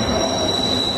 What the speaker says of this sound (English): there's a train going by as we're filming this